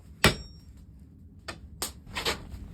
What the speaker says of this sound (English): I'm getting my hammer and flattening out the face slightly